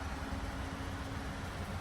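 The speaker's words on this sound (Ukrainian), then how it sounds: "Моторчик працює працює дуже добре." Steady idle of a Volkswagen Passat B5 engine, a low continuous hum with a faint tonal whine, even and unbroken throughout, heard close with no talking.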